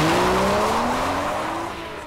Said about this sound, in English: there's the engine and the G-forces it generates and the intoxicating sound it makes